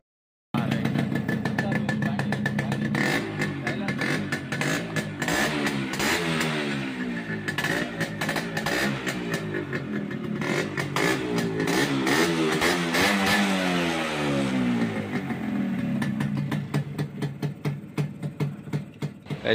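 Second-hand Yamaha RX100 two-stroke motorcycle in good engine condition, running close by: a loud, buzzy idle that rises and falls through repeated throttle revs, continuous for about nineteen seconds.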